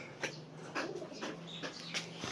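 A caught bird makes soft, pigeon-like cooing calls, a few low coos spaced across a couple of seconds against quiet background noise.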